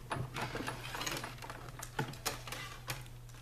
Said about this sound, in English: Let's go ahead and die cut that one out.